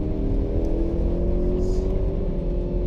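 A Range Rover Evoque engine pulls hard at full throttle around the Interlagos circuit, a loud steady drone with rising harmonic whine as revs climb through the gears, heard close from inside the cabin.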